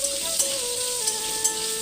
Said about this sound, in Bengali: গাজরগুলো ভাজা হয়ে গেল